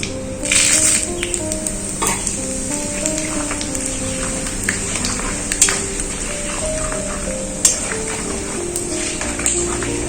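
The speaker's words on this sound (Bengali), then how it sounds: "ফোড়নগুলো সব ভাজা হয়ে গেছে" Panch phoron spices sizzling in hot oil for khichuri, a steady crackling fry with occasional stirring clinks and taps of a utensil in the pan, no talk.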